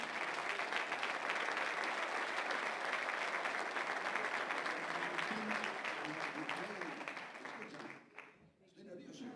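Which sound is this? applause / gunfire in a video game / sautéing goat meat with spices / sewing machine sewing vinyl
applause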